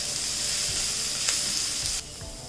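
Prawn masala fries in a pan with a constant close hiss and sizzle, a few soft stirring knocks underneath, and the sizzle drops noticeably near the end, no one speaking.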